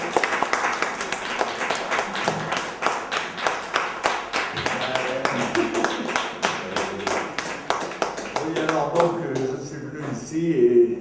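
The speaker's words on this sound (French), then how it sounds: "une tonne d'applaudissements pour Jean-Pierre Mocky." An audience applauds Jean-Pierre Mocky, with distinct rhythmic hand claps falling in a fairly regular beat and trailing off near the end as voices take over.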